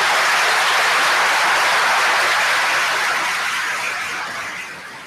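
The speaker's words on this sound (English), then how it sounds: "let's give all our veterans a rousing round of applause" An audience at a Veterans Day ceremony in a town hall gives veterans a sustained round of applause, a dense, even clapping that fills the room and slowly tapers off toward the end.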